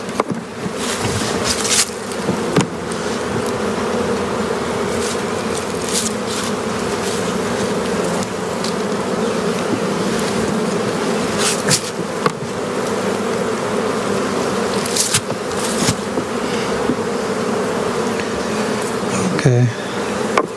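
Honey bees swarming around an open hive during a spring inspection, a loud, dense and unbroken buzz close by, with occasional clicks and knocks from handling the frames.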